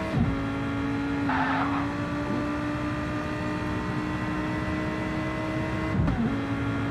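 A race car in a PlayStation racing game holds a sustained engine whine, steady and loud, accelerating down a long straight, with a brief gear change near the start and another near the end.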